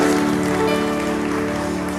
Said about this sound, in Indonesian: Tepuk tangan, bagus.